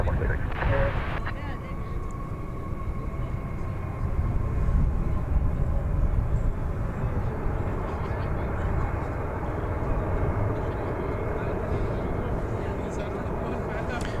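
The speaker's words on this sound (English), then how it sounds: "It's American Flight 176. 7878 Dreamliner." An American Airlines Boeing 787-8 Dreamliner, flight 176 from Tokyo Haneda, arriving at DFW Airport: a steady, broad jet engine roar that holds near and fairly loud throughout, with a faint whine on top.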